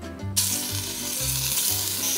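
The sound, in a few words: pork frying in olive oil in a pot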